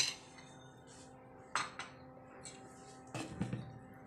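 Red velvet cake batter being mixed in a bowl, with a few quiet clinks and scrapes of a utensil against the bowl separated by near silence.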